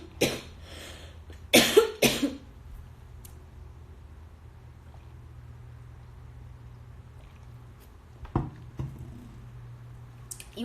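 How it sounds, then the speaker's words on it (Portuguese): Coughing fit from a woman during a live stream at home, a couple of sharp close coughs in a quick burst, then quiet room hum and two more rough coughs later, with no talking. "eu tô uma crise de tosse no meio da live"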